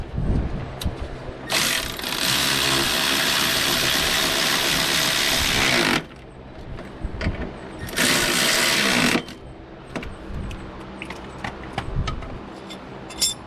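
Power tool tightening a bolt on a Buick Enclave rear shock: two loud, sustained buzzing runs, the first about four seconds and the second about one, close up over faint clanks and handling noise.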